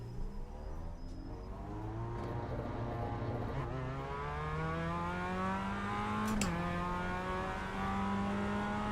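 An MX-5 race car in the iRacing simulator drives continuously, its engine note rising and shifting through revs with a steady, fairly loud whine over the whole stretch and a brief squeal or bump partway.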